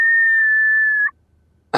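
A single sharp whistle rings out as a signal, held loud and steady for about a second before cutting off into near silence, then a brief noise burst.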